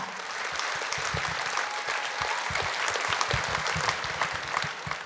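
Audience applause at a Crimean Tatar Hıdırlez concert in 2024: a dense, steady wash of many hands clapping together, loud and sustained throughout with no voices standing out.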